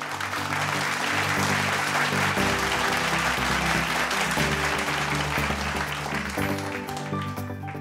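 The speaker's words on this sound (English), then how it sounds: "Please join me in applauding our outstanding students and their many achievements." Sustained audience applause at a 2020 graduate student awards ceremony, steady dense clapping throughout with background music-like tones, loud and continuous.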